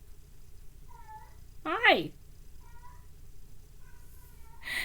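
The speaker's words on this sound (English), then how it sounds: "That's the giant cat." A giant cat gives one loud, wavering meow up close, with faint softer chirps before and after, and a person briefly speaks nearby.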